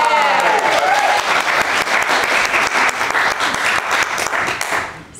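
An improv comedy show audience breaks into loud, sustained applause, dense clapping from a full crowd that holds steady for several seconds before tapering off at the end.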